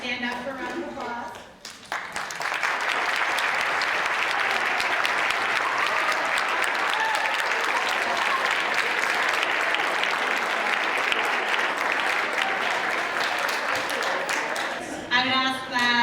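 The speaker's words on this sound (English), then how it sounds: "Now I would like to invite our inductees to stand up for a round of applause." Sustained applause from a school auditorium audience honoring National Junior Honor Society inductees, loud and steady for about thirteen seconds after a brief spoken introduction, then fading as a voice returns.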